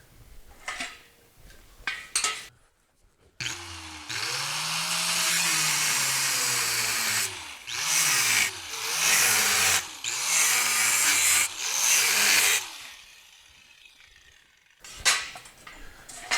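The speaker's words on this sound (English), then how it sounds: "I'm just going to use my cutting wheel on my grinder to cut those." An angle grinder with a cutting wheel cuts holes through a steel headache rack frame, a loud sustained whine with shifting pitch that stops and restarts several times between brief pauses.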